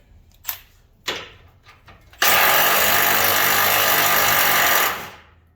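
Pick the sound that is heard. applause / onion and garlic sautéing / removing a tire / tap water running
removing a tire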